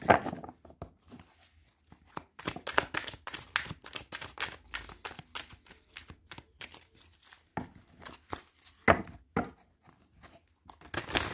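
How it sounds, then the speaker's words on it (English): New deck of tarot cards being shuffled by hand, a quiet series of quick riffling and slapping bursts in an irregular rhythm, close and alone. "the cards just really need a good old shuffle"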